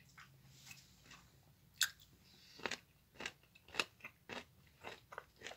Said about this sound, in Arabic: سامعين القرشه؟